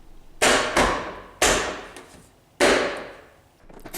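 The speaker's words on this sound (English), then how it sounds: "You can just pop this back on right now with the clips." Three sharp plastic snaps as a 4Runner backup camera trim panel is pressed back onto its clips, each a loud close crack with a short fading tail, the first a quick double.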